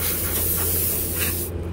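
Cleaner sprays in a steady, close hiss onto the hydraulic parts of a Ferris FW45 mower, a continuous aerosol rush lasting over a second before it cuts off.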